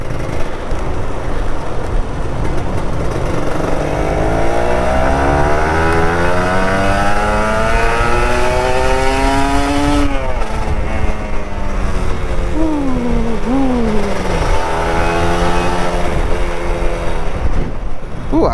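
A Kawasaki Ninja RR 150 two-stroke sport motorcycle rides along a road in rain and strong wind, its engine note rising and falling through several gear changes under loud, constant wind rush.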